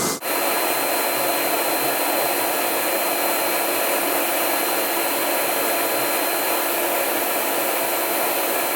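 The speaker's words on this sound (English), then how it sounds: "Face the nozzle for your third dry pass." Spray tanning booth nozzle in a Versa Spa blowing steady air for a dry pass, a loud, continuous, even rushing hiss that starts abruptly and holds unbroken, close and alone.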